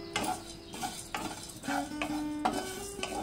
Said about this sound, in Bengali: মশলাগুলোকে একটু ভেজে নেব।